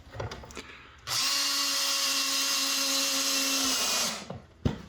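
A Makita power drill drives a screw into a plank for about three seconds, its motor a loud whine that starts sharply and stops abruptly, with faint handling clatter before and after.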